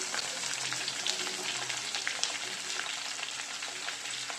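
Green chillies, gooseberries and onions sizzling in a pan while being sautéed for tomato mint chutney, a steady close crackle and hiss with faint stirring, no talking.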